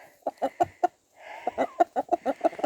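Chickens cluck in short, rhythmic bursts close by, with a brief pause before the run of clucks resumes; no talking.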